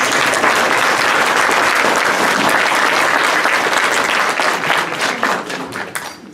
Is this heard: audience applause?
yes